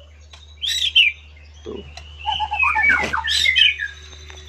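White-rumped shama singing up close, a rich run of whistles, sharp squawks and chirping phrases with short pauses between bursts, under a faint low hum.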